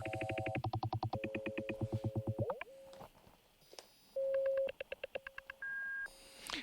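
Modular synth patch with a self-oscillating filter, feeding glitchy rhythmic bleeps, pulsed tones and sustained pitched beeps with abrupt stops, gaps and pitch jumps.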